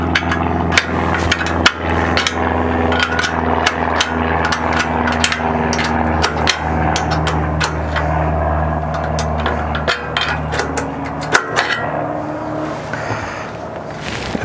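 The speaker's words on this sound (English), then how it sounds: "We are undoing the 4 bolts that are out here on the edge." Bolts being undone on the edge of an Uptop Overland Alpha roof rack, giving repeated sharp metallic clicks and knocks from a hand tool over a steady low engine-like hum, fairly close and continuous without talk.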